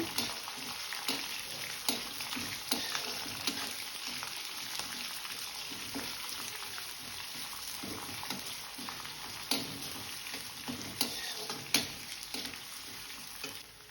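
Chopped onion and green chilli frying in a pan with ginger, a soft steady sizzle punctuated by light rhythmic clicks of a spoon stirring, moderately quiet and without voices.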